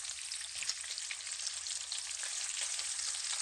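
Bacon sizzling and crackling steadily in a pan, a dense continuous fry with small pops throughout, close and fairly quiet with no talking.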